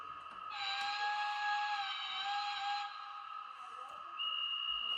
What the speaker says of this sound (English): conductor's blowing a whistle for the passengers to get on